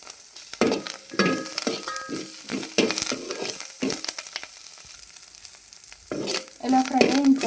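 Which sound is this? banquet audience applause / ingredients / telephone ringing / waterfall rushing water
ingredients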